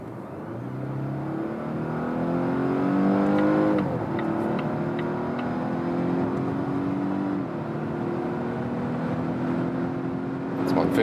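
A Volvo hybrid estate accelerates hard from about 40 km/h using both its combustion engine and electric motor, a steady rising engine note with gear-like steps, near and fairly quiet inside the cabin.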